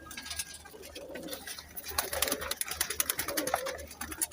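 Chinese pigeons coo in a low, soft murmur, several birds overlapping in an irregular rhythm, close by and moderately loud, with faint fluttering and scuffling among them and no one talking.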